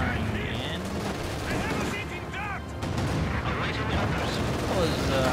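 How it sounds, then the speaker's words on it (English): Katyusha rocket artillery fires in Company of Heroes 2, a dense, loud barrage of booms and rumbling blasts running continuously under a commentator's voice. "Some Katyushas firing in."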